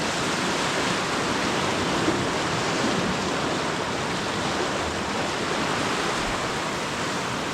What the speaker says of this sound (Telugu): వాటర్ ఫ్లో చూడండి ఫ్రెండ్స్